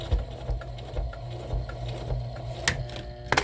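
Sewing machine stitching through a thick reusable scrubbing sponge, a steady close mechanical whir with faint repeated ticks and a few sharp clicks near the end as the needle gets over a bulky hump.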